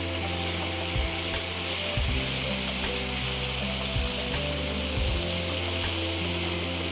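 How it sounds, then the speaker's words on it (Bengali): Chicken mango curry ingredients with mango, lime leaves and coriander frying in a pan, a continuous loud sizzle with occasional stirring knocks, no talk, alongside steady tonal layers that may be background music. "আবার এটা ফ্রাই করব।"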